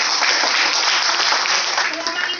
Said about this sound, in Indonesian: Tepuk tangan buat Indonesia.